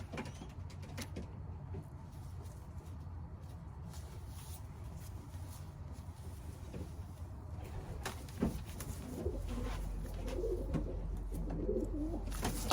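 Pigeons in a loft at a Capistrano racing camp coo softly and repeatedly through steady low background noise, with a few knocks and rustles and slightly louder activity near the end.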